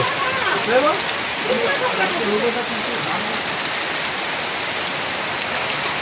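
Heavy rain pours down steadily on a trip back from Tarapith near hills, a dense constant hiss with voices talking over it briefly at the start.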